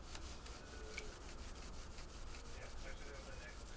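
A gray Scotch-Brite pad rubs across the finished body of a Teisco EP-11T guitar, quick repeated scrubbing strokes in an even rhythm, soft and close with no talking.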